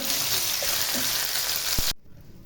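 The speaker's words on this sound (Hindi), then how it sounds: "और टमाटरों को भी हम बहुत ही अच्छी तरह जो है भून लेंगे।" Tomatoes and onions fry in a pan for a mixed vegetable dish, a loud, dense sizzle that runs steadily and then cuts off abruptly near the end, with no voices.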